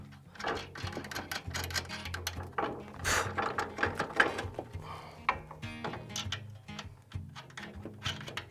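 Ratchet clicking away as 15mm bolts are tightened on the front strut of a Toyota 4Runner during a Bilstein 6112 shock lift install, steady rapid pawl ticks close up with some clanks, no talk.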